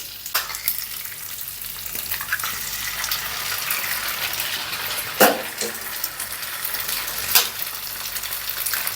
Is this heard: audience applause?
no